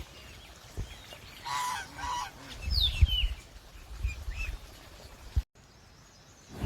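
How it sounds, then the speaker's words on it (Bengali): Chinese geese at a Sikkim homestay pond honk in a few loud, nasal calls, some overlapping, against a quiet outdoor background with occasional faint bird chirps. "কিছু চীনা হাঁস আছে"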